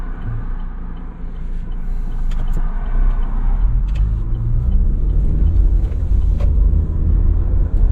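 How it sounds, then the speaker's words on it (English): A car driving along Aberdare Road toward the main street of Cessnock, with a loud steady low engine and road rumble heard from inside, no talk. "Right up, driving along Aberdare Road."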